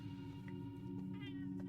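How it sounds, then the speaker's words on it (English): A house cat lets out a drawn-out, wavering meow close by over a steady low electrical hum, with a few faint clicks scattered through it. "Can you stop meowing?"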